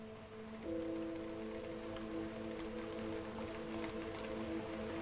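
Steady rain falls in the video game Distraint, a dense even patter of drops with a soft low musical drone underneath, continuous and fairly loud throughout.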